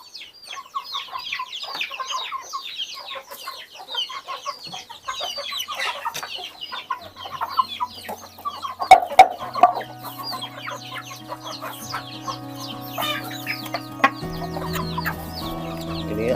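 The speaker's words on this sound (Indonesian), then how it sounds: "Ini ayam-ayam makannya nih," A flock of chickens clucking and chattering busily while feeding at a coop, many birds overlapping, with a low mechanical hum entering partway through.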